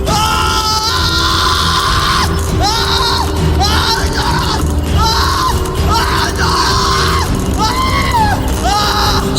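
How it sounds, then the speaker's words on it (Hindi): A man screams in pain, a staged radio drama sound effect, with repeated rising and falling anguished cries over a dense, constant background of rumbling effects and crowd-like noise. "सुरजीत की चीखों ने पूरे कमरे में ऐसा माहौल बना दिया जैसे कोई भी खौफ से पागल हो जाए"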